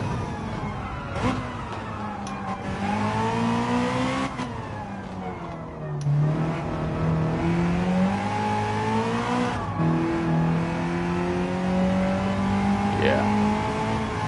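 A race car engine in Gran Turismo 7 revs and pulls through rising and falling pitch sweeps, with gear changes and a moment of bogging down, steady and prominent throughout.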